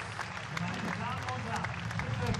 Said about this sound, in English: please give a warm round of applause to our athletes